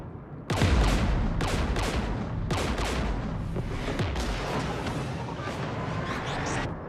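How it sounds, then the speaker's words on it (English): Dense, continuous gunfire and explosive bursts in Mass Effect during a Geth firefight near a jamming tower with anti-aircraft guns. A sharp onset leads into sustained, loud volleys and booms that continue throughout with no pauses. "We're taking fire."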